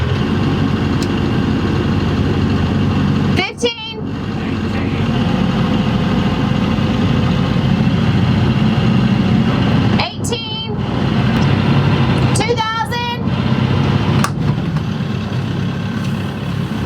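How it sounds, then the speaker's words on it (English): Inboard motor of a 44-foot monohull sailboat running, a steady loud low drone throughout, with a few brief knocks and clatters and people talking over it. "Alright, I'm going to shut the motor off now."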